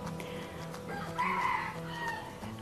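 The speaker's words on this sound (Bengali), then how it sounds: "আর আপনারা কিন্তু আসলে সবসময় এই যে ভয়েস দেওয়ার সময় শুনতে পাচ্ছেন একটা মোরগের ডাক" A rooster crows from a neighbouring house, one drawn-out call rising in the middle over quiet room ambience, heard moderately close.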